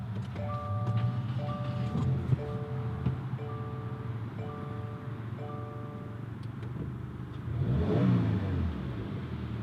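A 2024 Subaru WRX TR engine cranks and fires near the end, its brief rising rev standing out over steady background music and a low idle-like rumble.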